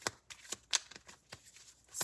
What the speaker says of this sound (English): I'm gonna shuffle for Scorpio.